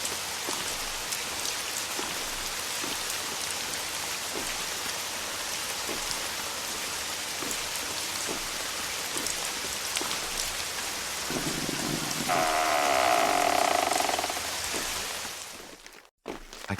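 Steady rain pours in the video game Subway Horror, a dense, even hiss of falling drops with faint low thuds, joined near the end by a brief louder rushing burst before a sudden cutoff.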